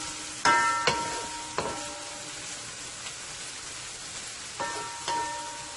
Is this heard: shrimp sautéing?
yes